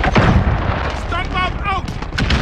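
A flashbang grenade goes off in Call of Duty Plunder, a loud, sharp blast with rumbling booms and gunfire-like bursts, heard under a voice talking throughout.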